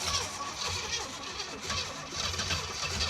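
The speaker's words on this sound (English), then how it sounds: "I've got the throttle bashed open about halfway. So let's give that another shot. See how much faster it's cranking?" A Pontiac Trans Am engine cranking with the throttle held about half open, a steady churning starter whir rising and falling in fast cycles, loud and close, with no voices over it.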